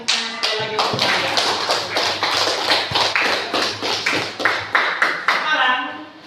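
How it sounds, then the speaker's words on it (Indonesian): A classroom group claps in rhythmic, unison beats, loud and close, with brief pauses between bursts and voices mixed in around the clapping. "Kita berikan tepuk tangan sekali lagi untuk saya."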